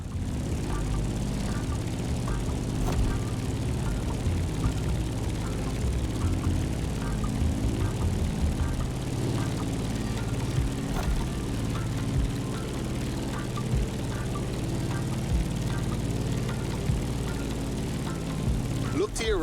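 A propeller airplane engine in the racing game The Crew Motorfest drones steadily and evenly throughout a climb, with a voice occasionally talking over it.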